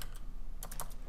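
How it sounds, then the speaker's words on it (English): Quick bursts of keystrokes on a computer keyboard, a short run of light clicks close by. "think of all that time you've lost typing those 5 characters"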